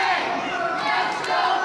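A wrestling crowd at a live show roars and shouts together in a sustained, dense wave of cheering, with no break across the short moment.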